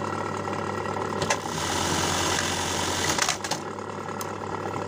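A rough dynamo starter motor runs loud and close with a steady mechanical whir and clatter, rising in intensity partway through.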